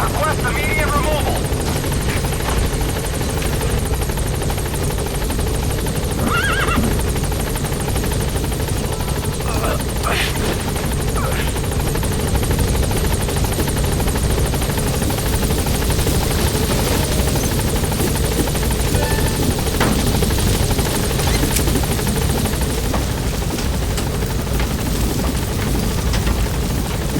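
Helicopter from the Metal Gear Solid video game, a steady loud rotor drone held for the whole stretch, with a radio voice talking over it.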